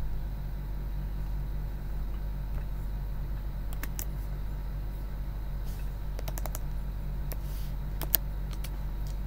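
Scattered keystrokes tap on a computer keyboard, sparse and fairly soft, over a steady low hum from a room or vehicle background.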